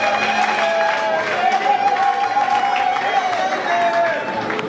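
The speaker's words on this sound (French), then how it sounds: "Scola, elle peut se tenir debout et on peut l'applaudir." A wedding crowd in Lubumbashi claps and cheers steadily throughout, with sustained high vocal ululation-like cries over dense chatter.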